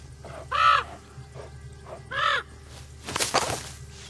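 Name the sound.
crow cawing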